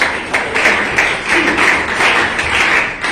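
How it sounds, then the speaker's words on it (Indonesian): A church congregation claps for God during a worship service, a steady, dense crowd clapping that fills the whole stretch with an even wash of hand claps. "Beri tepuk tangan bagi Tuhan."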